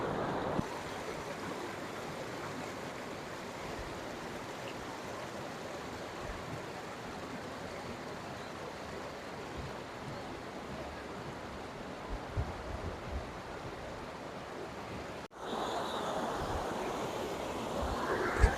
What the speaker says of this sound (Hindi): बड़ा ज़बरदस्त पानी, ठंडा पानी जा रहा है।